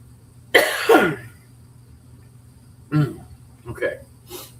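A man has a coughing fit indoors, with a harsh burst of coughs followed after a pause by several shorter, weaker coughs and throat sounds, close and fairly loud against a quiet background.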